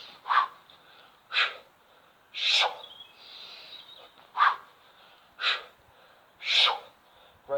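Heavy, rhythmic breathing during a kettlebell workout, roughly seven forceful breaths spaced about a second apart, close and clear with quiet gaps between them.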